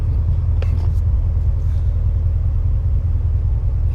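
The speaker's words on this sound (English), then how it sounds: "Now we got a dump truck in the street" Dump truck rumbling along a street, a low, steady engine drone heard close by, with a few brief higher squeaks or rattles early on and no speech.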